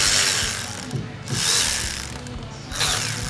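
A ratchet clicks rapidly while snugging T30 bolts on the upper timing cover of a 2013 Volkswagen CC during a timing chain install, in three close bursts of fast metallic ratcheting with short pauses between.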